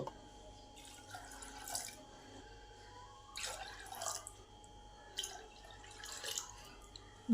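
Water trickles and splashes into chana dal in a pressure cooker, a quiet uneven pouring with small spattering bursts in a still kitchen.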